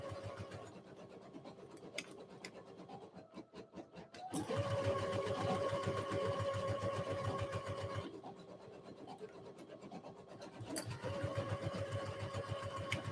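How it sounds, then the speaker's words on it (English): Sewing machine stitching Etsy orders in a home studio, running in steady rapid bursts with short pauses between seams, close and moderately loud with no talking. "at least you can see me sewing up close and personal"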